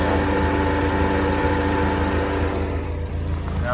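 A 2005 Caterham Roadster replica idles steadily through its side-pipe exhaust, a loud, even, close-up burble with no talk.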